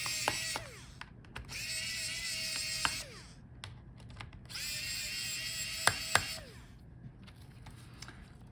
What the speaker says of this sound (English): So unscrew all the screws for the heatsink.